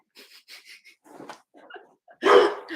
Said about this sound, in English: Oh, by the way, my dog's here.